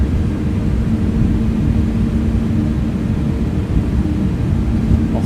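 An airliner lands in a flight simulator, heard as a loud, steady, low engine and wind roar that holds at an even level throughout, with no talking.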